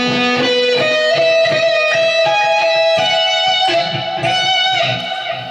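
A short bluesy electric guitar phrase, single notes with bends, played cleanly and up close with no voice.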